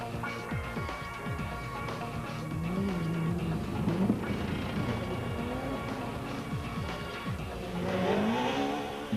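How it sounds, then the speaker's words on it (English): Rally cars at the 2005 Tzaneen Rally sweep under a bridge on the Majaji Road, engines rising and falling in loud revving passes, one after another, with some commentary-like voice faintly mixed in. "The spectators have a superb view of the action from the bridge on the Majaji Road as the cars sweep underneath them."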